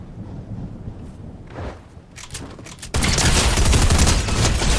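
Drum shotgun fire in Fortnite, a scattered few shots followed by a sustained, loud volley of rapid blasts that rolls on to the end without any talk.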